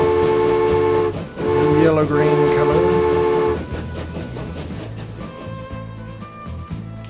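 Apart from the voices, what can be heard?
train running on new railroad line in Transport Fever 2 video game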